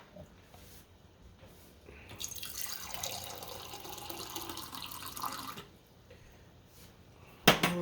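A kitchen tap runs into a container for about three seconds, a steady splashing rush that stops abruptly. Quiet clinks come before it, and a sharp knock of dishware follows.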